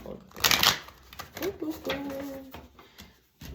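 Tarot cards are shuffled in a few quick riffling bursts at close range, with crisp papery flutters early on and softer handling sounds after, mixed with faint vocal sounds.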